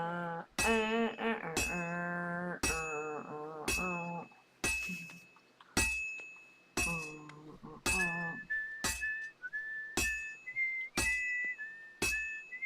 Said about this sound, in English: I can never get him to do a full whistle song.